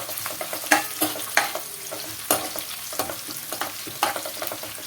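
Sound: onions frying in a pan

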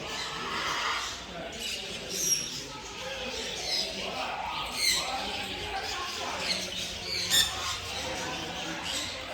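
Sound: parrot squawking

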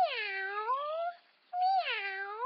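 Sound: voice imitating a cat meowing

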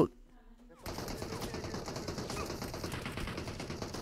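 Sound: gunfire in the video game BGMI

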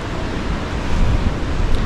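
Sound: mountain water streams

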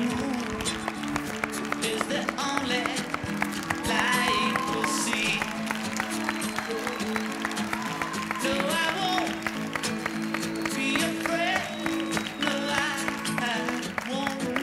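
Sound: audience applause for Marcelo Tinelli

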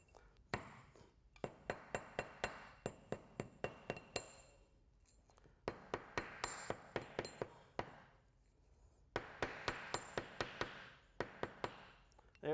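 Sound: hammering a steel piece against a sharpening stone

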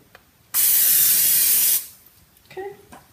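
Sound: cooking oil spray can spraying

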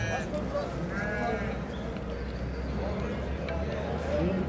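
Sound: lambs bleating

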